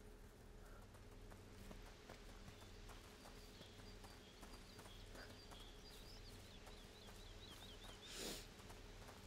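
Horses in a medieval village in A Plague Tale: Requiem give steady soft hoof clip-clops under quiet ambience with faint birdsong, and one breathy snort rises near the end.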